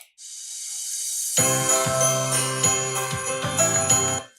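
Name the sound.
jingle bells Christmas sound clip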